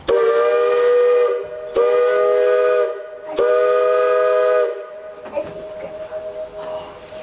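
A Cripple Creek & Victor Narrow Gauge Railroad steam locomotive sounds three loud, long whistle blasts in a row, followed by a faint echo rolling back from the valley.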